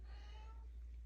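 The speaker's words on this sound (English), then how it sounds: "And my cat Lou says yes to that" A pet cat meows once, a single faint drawn-out call in the background of an indoor room with a low steady hum.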